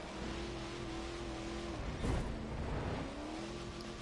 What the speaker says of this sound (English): This car sounds good and looks good